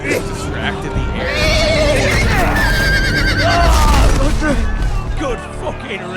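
A horse whinnies in Telltale's Game of Thrones, its rising and falling neighs repeating over busy game sound and a loud, excited voice talking throughout.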